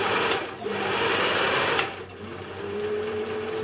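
A 1950s Singer 401A sewing machine runs steadily nearby with a continuous motor whir, broken by two brief clicks, and it sounds a little noisy.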